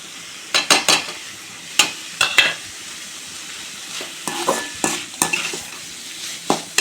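Bitter gourd with grated coconut is stir-fried in a pan, with quick clusters of utensil scrapes and clinks over a soft, steady sizzle.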